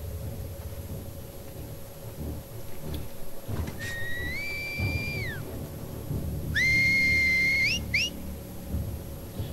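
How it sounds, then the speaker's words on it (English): Scar enemies in The Last of Us Part II signal each other with whistles in a trainyard: one long rising-and-falling whistle, then a louder pair of quick whistles a few seconds later, over low rumbling ambience. "I think your whistling is stupid."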